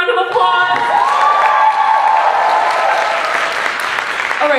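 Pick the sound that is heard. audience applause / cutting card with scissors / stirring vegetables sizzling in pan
audience applause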